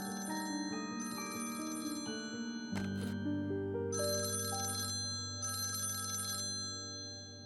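A telephone rings loudly and persistently in a Turkish drama scene, its bright electronic ringtone repeating in steady bursts with no one speaking over it.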